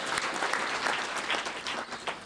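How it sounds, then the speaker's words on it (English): A large audience claps at a management institute graduation ceremony, a dense, steady roar of many hands at moderate level with slight swells, continuing alone without speech. "We give them a clap to the back."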